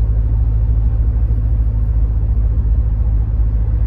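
A 1991 Mercedes-Benz 190E 2.0 cruising at about 30 mph, heard from inside as a steady, loud low engine and road rumble with no changes in pace.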